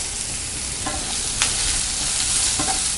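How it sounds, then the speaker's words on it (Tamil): Capsicum and mixed vegetables sauté in a pan with a loud, continuous sizzle, punctuated by a few distinct scraping and clinking stirs of a utensil. "ஒரு 30 செகண்ட்ஸ் நல்லா வதக்கிக்கலாம்"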